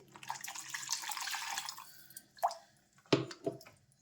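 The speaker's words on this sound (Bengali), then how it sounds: "দেড় কাপের মতন জল দিলাম আলুটা সিদ্ধ হওয়ার জন্য" About one and a half cups of water pour into a pan of potatoes set to boil, a soft continuous splashing trickle that fades out, followed by a few faint drips and light knocks, close and quiet.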